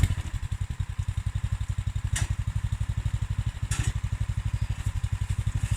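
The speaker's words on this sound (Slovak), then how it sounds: "Zacúvam a trocha sa rozbehnem." A tractor with dual-mounted wheels chugs through a steady, rapid engine beat as it backs up and pulls forward, loud and close, with brief higher bursts and no talking.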